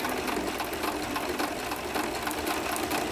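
A sewing machine runs a continuous zig zag stitch through fabric and tape, a fast even mechanical rattle heard close and steady for the whole stretch, with no talking.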